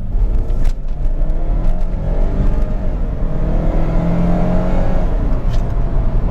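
Saab 9-3 accelerating with a short shift into second gear, engine drone rising and dipping under steady road and wind noise from inside the car, loud and continuous with no talking.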